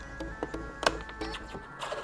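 A thick acrylic sheet, scored to about half its depth, is pressed down over the corner of a worktable and snaps along the groove: one sharp crack amid a few lighter clicks and taps, close by.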